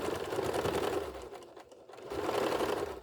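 A sewing machine stitches a synthetic leather wallet in steady, loud mechanical bursts, pausing briefly midway before running again close up.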